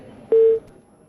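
A single short, steady electronic telephone tone sounds after a call-in line is cut off during a live broadcast. It is loud and clear, lasts about a quarter second, and is surrounded by near silence.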